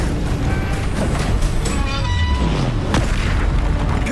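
Bombarda blasting-spell explosions in the Hogwarts Legacy video game, dense booming blasts and crashing impacts layered over continuous loud combat effects, with no voices.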